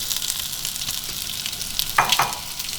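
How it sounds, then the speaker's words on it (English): Chopped onions sizzle and fry in a cooking pot for a Mexican-style beef stew, a steady close crackle that rises with a few sharper spits and stirring clatters near the end. "we're kind of waiting for our onions to saute just a little bit before we put in the next vegetables"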